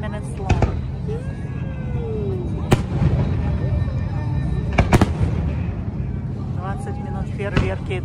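Fourth of July fireworks over Marina del Rey pop and boom at irregular intervals, some bursts sharp and loud, others distant, beneath steady crowd chatter.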